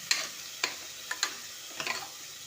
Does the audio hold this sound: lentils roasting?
yes